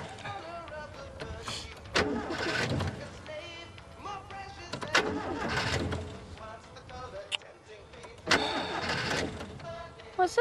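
A car engine cranks over in three rough, repeated bursts without catching, with pauses between attempts and people talking over it.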